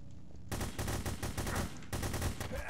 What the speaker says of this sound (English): Yeah, shoot the barrels.